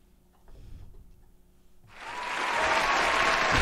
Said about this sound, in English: he gets a little studio applause.